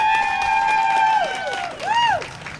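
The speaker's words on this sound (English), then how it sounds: "can you please give them a round of applause?" A crowd at the Montclair Pride flag-raising ceremony applauds the Montclair police department, with rising and falling whoops and cheers riding over steady clapping that swells again near the end.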